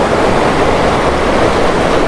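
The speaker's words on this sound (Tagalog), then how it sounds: "Ang lakas ulit ng tubig dito sa Sapaw." Strong rushing river water during Typhoon Pepito in Benguet, a loud, dense, continuous roar of fast-flowing water heard close up with no voices.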